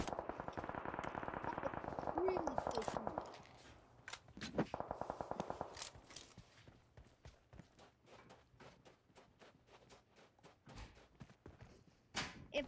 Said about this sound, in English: Careful. Shots east.